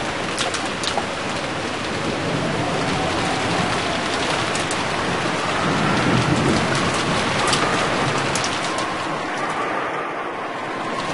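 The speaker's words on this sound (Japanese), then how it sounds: "雨が吹き込んじまうぜ" Steady, heavy rain in the video game Umineko, a continuous close hiss of falling water without pause.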